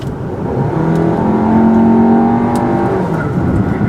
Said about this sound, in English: Let's give it a little bit of gas. Nothing crazy, but let's see how it feels.